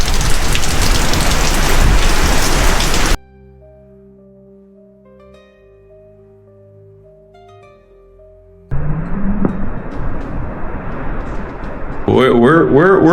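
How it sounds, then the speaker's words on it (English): Hurricane rain and high wind in St. Catherine, Jamaica: loud, dense downpour roars close by, cuts out into a quieter stretch with faint tones, then returns hard with gusting rain to the end. "We're in full storm mode right now."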